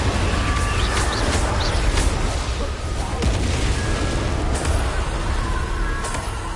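Incendio fire spell effect in a wizarding video game, a dense roaring whoosh of flames with several sharp bursts and crackles layered over a sustained rumble.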